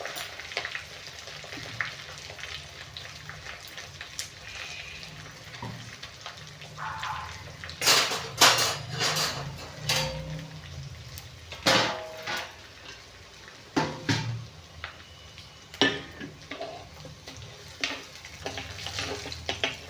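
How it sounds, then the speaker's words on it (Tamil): Chana dal roasting with a pinch of turmeric in a pan, a low steady sizzle broken by repeated scraping and clinking stirs, close and moderately loud, with no talking. "கடலைப்பருப்பு நல்லா வறுக்கட்டுங்க"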